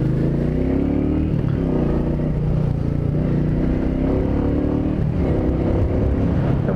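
Royal Enfield Meteor 350 motorcycle riding through city streets, a steady low engine drone with harmonic hum, close and constant throughout, with slight shifts in pitch as it rolls along; no talk.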